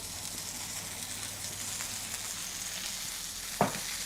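Sea bass searing in a hot pan, a quiet, continuous crackling sizzle with one sharp clack near the end, no voices.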